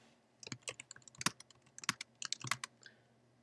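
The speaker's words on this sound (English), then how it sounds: "Then just start typing." Keys clatter on a computer keyboard at close range, with quick bursts of crisp taps separated by short pauses and no talking over them.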